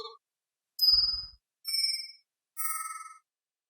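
A synthesized bell sound design layer built in Phase Plant with the attack removed and ring modulation, pitch shifting and a nonlinear filter applied, heard as three or four shimmering metallic tones in a row, each with a different pitch and a soft swell.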